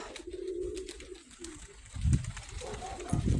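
Pigeon cooing close by, a low repeated bubbling coo from a variegated-tailed dove-house pigeon, with soft rustling and background noise between calls.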